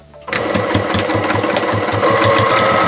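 A professional-use sewing machine starts up and stitches fabric with interfacing, a fast, even mechanical chatter right at hand that runs steadily after a quiet first moment.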